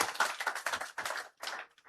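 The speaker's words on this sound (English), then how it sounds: "Can we give him a round of applause, please?" A few people clapping for a speaker at a construction and real estate outlook event, sparse, close claps in uneven bursts with short gaps, fading out near the end.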